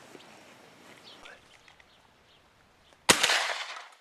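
A single loud shotgun blast rings out near the end during a turtle dove hunt in open country. It follows several seconds of quiet outdoor ambience with faint birdsong, and the echo trails off afterward.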